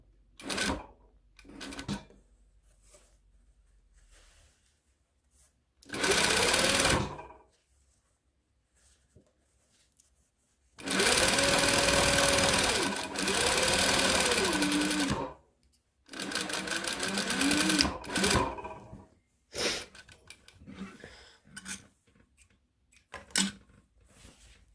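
A sewing machine stitches a rolled hem on a pleated fabric face mask in several bursts of steady whirring, each a few seconds long, with quiet handling noises between them.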